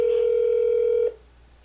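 A steady electronic telephone ringback tone hums for about a second while a call to a dentist's office connects, then cuts off into near silence.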